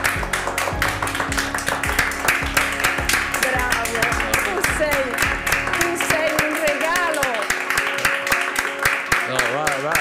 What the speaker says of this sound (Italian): Dino Zoff, signori, ad applauso libero, avanti